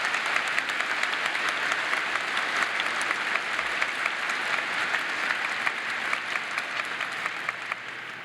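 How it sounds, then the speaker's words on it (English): Sustained audience applause fills a university winter commencement ceremony hall, steady dense clapping from a large crowd throughout, moderately distant with no talk over it. "please join me in one more round of applause for Dr."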